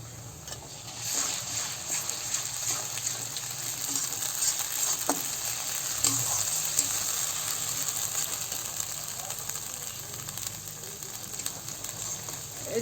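Garlic and ginger paste sizzling in a pan with fried onions, a steady close hiss of frying with occasional scraping stirs and faint clicks underneath.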